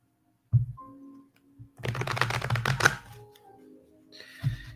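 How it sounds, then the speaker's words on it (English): A deck of cards being shuffled, a dense flurry of riffling clicks lasting about a second, framed by soft handling thumps and light shuffles before and after, close and fairly quiet with no talking. "Let me shuffle my deck."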